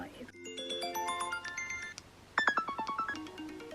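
A phone alarm plays a chiming melodic tone in two runs of quick, bright notes, the second run louder and more clipped, heard up close.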